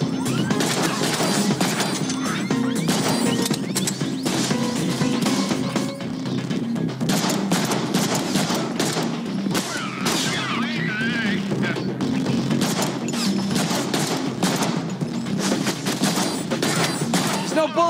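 Dense, loud gunfire rattles almost without pause through a Deadpool video game fight, with rapid shots, crashes and impacts layered over one another.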